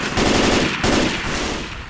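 Rapid automatic gunfire bursts in the video game Left 4 Dead 2, loud and close, with two quick volleys in under two seconds.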